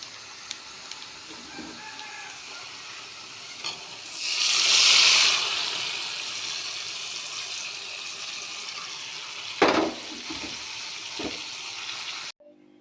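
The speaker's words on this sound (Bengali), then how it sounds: "আমরা এখন এটা পুঁই শাক কুমড়োর ভিতরে ঢেলে দেবো" A hot garlic and onion tempering is poured over pumpkin and Malabar spinach, giving a sudden loud hissing sizzle that swells and fades over a few seconds amid quieter stirring and a later clatter, with no voices.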